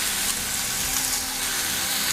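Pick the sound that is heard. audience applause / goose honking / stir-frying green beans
stir-frying green beans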